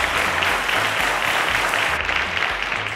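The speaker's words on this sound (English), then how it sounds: "A round of applause for Oluwafunke." Studio audience at a televised school quiz show applauds a student contestant, dense sustained clapping, loud and even, with a low rhythmic music bed beneath.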